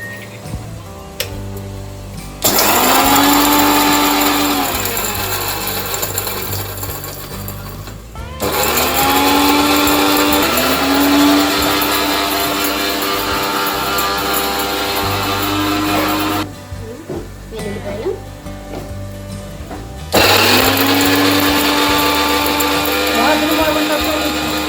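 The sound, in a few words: mixer grinder grinding garlic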